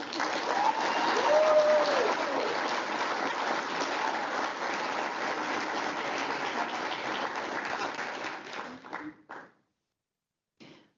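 Sustained audience applause fills a hall at a 2024 Defense Acquisition Award ceremony, broad and steady for about eight seconds before thinning to a few scattered claps and falling silent.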